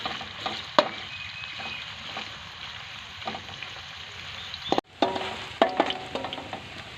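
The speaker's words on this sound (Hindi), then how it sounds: "प्याज को गोल्डन होने तक भून लेंगे" Onions frying in a pan for a village-style matar pulao, a steady close sizzle with occasional sharp stirring clinks and scrapes, no talking.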